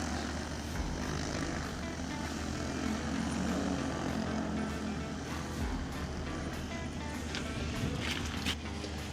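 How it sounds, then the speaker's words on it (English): A P150 Max agricultural drone hums overhead with a continuous buzzing propeller drone, steady and fairly loud throughout, with faint rustling underneath. "drone's finishing up its task right now"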